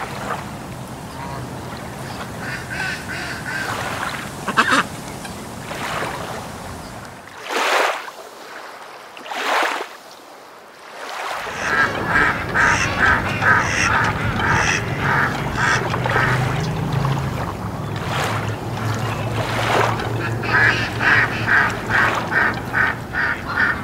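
Ducks quacking near water, a string of loud nasal calls in irregular bursts over a steady outdoor background, with a brief quiet gap partway through before the calls resume.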